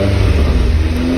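A car engine fitted with an aftermarket muffler revs up close by, giving a steady, loud, deep exhaust drone with no voices over it.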